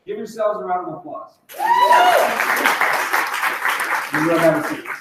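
Keynote audience at a retreat breaks into applause after a speaker's brief talk, a dense wash of clapping filling most of the moment with a voice returning near the end.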